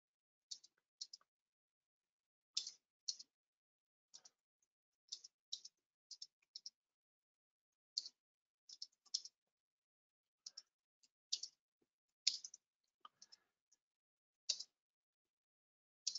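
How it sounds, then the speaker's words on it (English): Typing on a computer keyboard in short bursts of crisp, faint clicks separated by pauses, close and isolated in a quiet room, with no talk. "just going to type in the message box as well"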